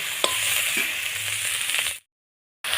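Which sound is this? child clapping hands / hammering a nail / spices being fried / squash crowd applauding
spices being fried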